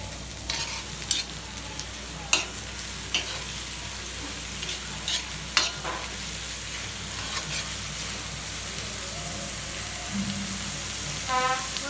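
Onion and chilli frying in oil for ridge gourd peel bhaji, a soft continuous sizzle with scattered clicks and scrapes of a spoon stirring the pan.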